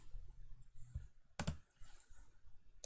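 A few quiet keystrokes on a computer keyboard, scattered soft clicks with one sharper tap in the middle, close but faint against a quiet room.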